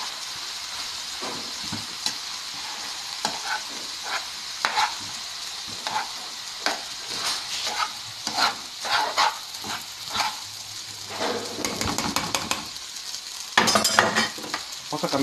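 Food frying in a pan for Chinese-style rice and chicken, stirred with an iron spoon: a continuous sizzle marked by repeated metallic scrapes and taps, growing busier toward the end, with no talking.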